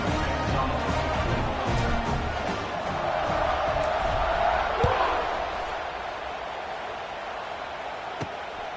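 A packed stadium crowd roars before kickoff in a college football video game, a dense continuous wall of cheering and yelling with a few sharp bangs, steady and loud throughout.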